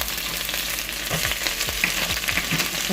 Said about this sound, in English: So I'll be adding the onions to this right now,